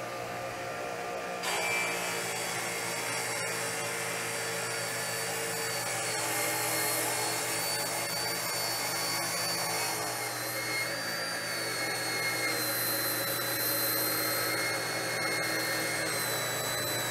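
A table saw rips a wooden board, its blade spinning in a steady, loud whine for most of the cut, close by and with no one talking.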